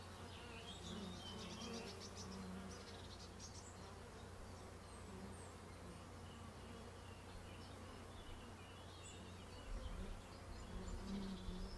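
Honeybees hum in a dense, steady drone as hive frames are shaken over a sieve while making up a nucleus colony outdoors, a continuous close buzzing swarm with a few faint chirps behind it and a slight swell near the end.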